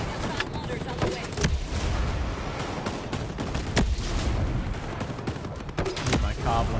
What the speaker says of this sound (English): Hostile mortars on the way.